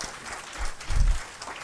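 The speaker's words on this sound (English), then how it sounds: "A round of applause for him." Brief applause from the audience at a technical talk on big data analytics, a soft wash of clapping with a couple of low thumps in the middle, quiet and short.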